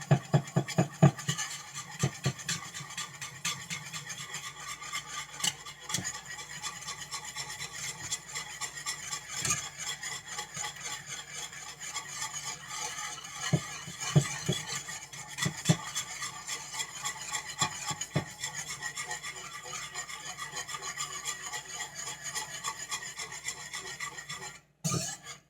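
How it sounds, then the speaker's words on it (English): A whisk stirring flour into a thickening sauce in a pan to break up lumps: continuous close scraping and rattling strokes against the pan, with occasional louder knocks and faint sizzling. "what we're doing is we're whisking to make sure we don't have any lumps of flour"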